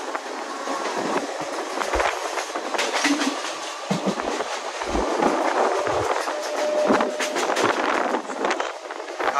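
A Mumbai local train runs on the rails near Ghatkopar, a continuous loud rumble with rhythmic clickety-clack and occasional metallic squeals, heard from on board.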